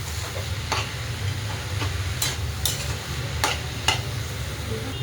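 Cabbage with green chillies and salt is stirred in a pan, with a spatula scraping and clinking at irregular intervals over a low, soft sizzle close by.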